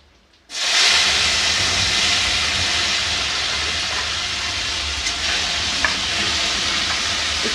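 Hot oil with a fried spice tempering bursts into a loud, sudden sizzle as tomatoes hit the pan, then keeps up a strong, steady hiss close by.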